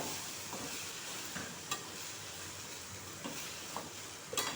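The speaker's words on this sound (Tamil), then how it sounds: "தக்காளி நல்லா வதங்கணும்." Chopped tomatoes and onions sauté in a pan for a tamarind curry, giving a soft, steady sizzle with a few faint stirring scrapes.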